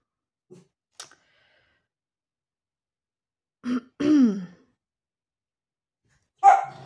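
Two short sharp barks from a small dog stand out from near silence, with a few faint clicks before them and one more yap near the end.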